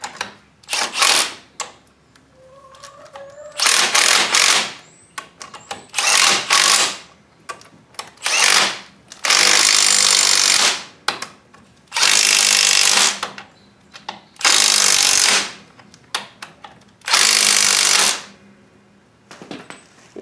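Bursts of a power tool, likely an impact driver, tightening bolts on the front axle of a New Holland TC33D tractor, running in repeated one- to two-second pulses with short pauses, loud and close.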